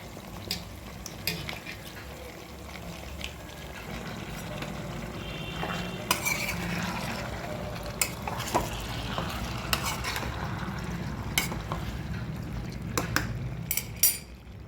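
Pieces of chicken fry in a pan with a steady close sizzle, while a utensil stirs and clinks against the metal now and then, with scrapes and taps scattered throughout.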